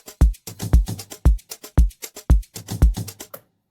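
Tech house groove with a percussive tops loop layered over it, busy syncopated kicks and crisp bright top hits repeating in a tight electronic pattern, close and clean with no talking.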